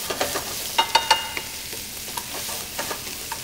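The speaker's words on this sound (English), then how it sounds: "you can go ahead and cook this until the onions are nice and caramelized" Onions frying in oil with mustard seeds and spices for Indian tamarind sauce. A soft steady sizzle runs under sharp clinks and scrapes of a utensil stirring the pan, with no talk.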